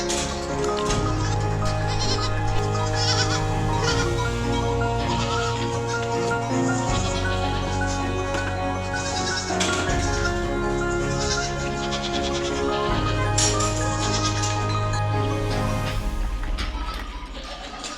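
Goats bleat repeatedly nearby during kidding season in cold weather, their calls overlapping amid a busy background with a steady tonal hum and occasional clatter.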